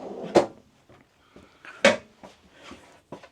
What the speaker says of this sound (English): obviously you've got drawers,